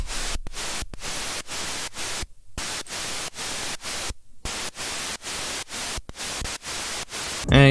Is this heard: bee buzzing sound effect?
no